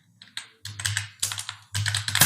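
Typing on a computer keyboard while entering HTML code, with short clusters of close, crisp key clicks in several bursts separated by brief pauses and no voice over them.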